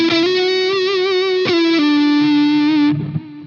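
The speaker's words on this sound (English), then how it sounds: "So I just turn on my delay and my reverb," Electric guitar played through a NUX Recto distortion pedal with delay and reverb, one sustained, heavily saturated note bending slightly, a brief pick attack midway, ringing alone and close.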